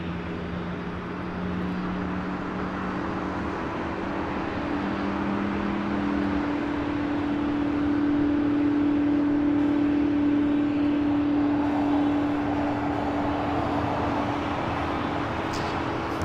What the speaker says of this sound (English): Got that United Dreamliner as the next arrival on 25 left